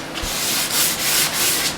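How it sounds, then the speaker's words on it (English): Sandpaper is rubbed along the bottom of a golden oak cabinet in steady back-and-forth strokes, making a close, rhythmic scratchy rasp without any speech. "We're going to sand along the bottom of the cabinet"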